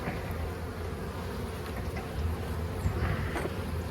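Honeybees buzz around an opened hive during a first winter inspection, a close, continuous droning hum with faint rustling, steady and unbroken.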